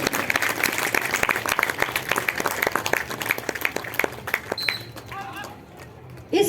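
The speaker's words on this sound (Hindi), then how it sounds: "जोरदार तालियों से इनका हौसला अफजाई करते रहें।" Audience applause at a CISF commando drill display in a stadium, dense continuous clapping from a large crowd with a loudspeaker voice faintly over it, thinning toward the end.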